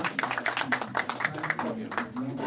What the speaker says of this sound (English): Can we clap for all of us,